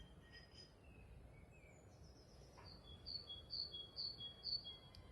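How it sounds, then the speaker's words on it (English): A small bird sings a series of thin, high chirps and whistled notes in the distance over a quiet outdoor background hiss. "You can hear the bird."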